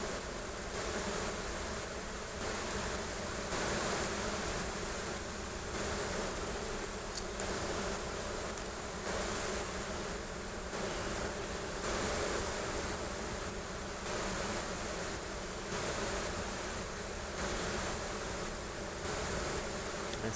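Honey bees buzz continuously during a hive inspection, a dense, close, steady hum filling the whole stretch with small swells and no talking.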